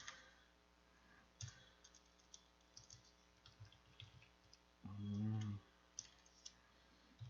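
Keys clicking on a computer keyboard while entering values into Maple, a scatter of faint, sparse taps in a quiet room with one brief low hum partway through.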